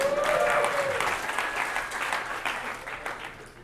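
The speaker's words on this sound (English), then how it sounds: "Raucous applause." A lecture audience breaks into loud, dense applause, steady at first and gradually tapering off, with a faint tone running underneath early on.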